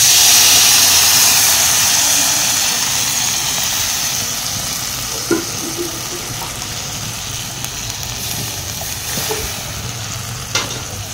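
Potato curry broth simmering in a pot, with a steady bubbling hiss, a few soft clinks and scattered pops, starting louder and easing slightly, with no talk.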